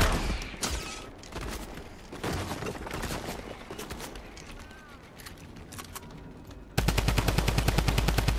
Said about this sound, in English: I know there's a guy shooting at me